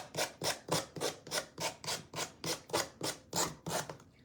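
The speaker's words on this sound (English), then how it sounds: "so that I always have the best amount of control when sanding" Steady back-and-forth rasping of sandpaper rubbed by hand on a snow globe angel figure, about fourteen even strokes in a regular rhythm, close and moderately loud.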